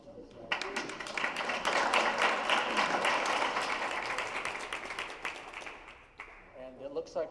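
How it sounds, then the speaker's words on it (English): An audience at an economic prosperity forum breaks into applause, a dense burst of clapping that rises quickly, holds for several seconds and then tapers off, with voices returning near the end. "How about round of applause for this guy?"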